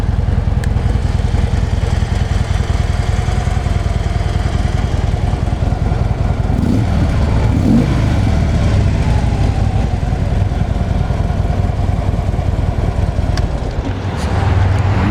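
A Harley-Davidson Ultra Limited FLHTK engine runs at a steady idle, a loud, close, continuous low rumble that holds even throughout with no talk over it.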